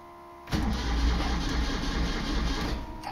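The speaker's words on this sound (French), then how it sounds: "Ah, pompe électrique, pardon." An electric fuel pump on a Panhard Dyna Junior switches on and runs as a steady, close mechanical buzz and whir that continues without a break.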